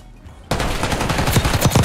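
Rapid automatic gunfire in the video game Warzone bursts in after a quiet moment, loud sustained machine-gun fire rattling on without pause.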